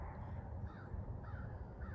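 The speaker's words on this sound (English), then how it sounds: "There are crows in the yard" Crows caw three times in a row against a faint, muffled background rumble, sounding fairly distant.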